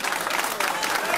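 Crowd applause and cheering at a Tuesday night comedy show, a dense steady wash of clapping filling the room, loud and close, with voices mixed in.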